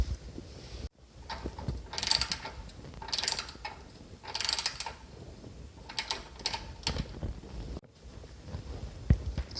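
A ratchet wrench clicks in several short bursts while a bolt and nut are tightened on the front subframe of a Mini Moke, close and fairly loud, with brief pauses between the runs of clicks.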